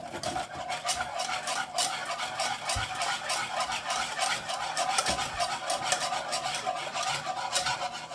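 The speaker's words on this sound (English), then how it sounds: "make sure you beat it real good" A flour, butter and milk mixture for soup is beaten steadily in a pot, giving continuous scraping, stirring strokes with a rasping texture that runs close and unbroken throughout, with no talk.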